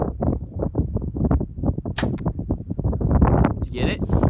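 An arrow loosed from a bow at a pumpkin outdoors, sharp brief impacts and whooshes scattered among steady chatter and wind, with people talking throughout.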